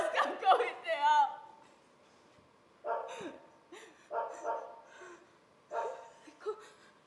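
Dogs bark and yelp in short, separate bursts during a stage theatre performance, moderately close and spaced across several seconds with quiet gaps between them.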